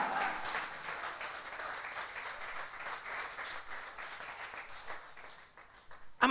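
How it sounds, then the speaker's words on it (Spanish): A church congregation claps together, a fairly soft, diffuse patter of many hands that gradually thins and fades toward the end, followed by a brief louder burst. "Dele un aplauso al Señor."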